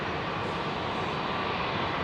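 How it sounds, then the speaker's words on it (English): An Iberia airliner touching down on runway 27 left at Heathrow gives a steady, broadband engine roar, close and fairly loud, holding constant for about two seconds with no voices. "Iberia 350 touching down, runway 27 left."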